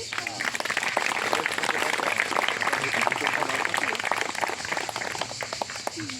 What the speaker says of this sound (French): Oui, je crois qu'on peut les applaudir.